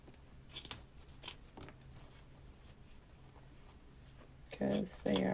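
Scissors snip through floral stems while a 14-inch pancake wreath frame is being decorated; a few faint, sparse snips are spread across the stretch, ending in two louder, closer cuts.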